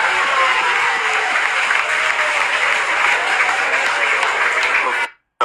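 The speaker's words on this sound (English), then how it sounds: "Y'all give Regal a round of applause" Audience applause at a live talk-show taping, dense and steady clapping filling the room at close range for about five seconds before cutting off abruptly.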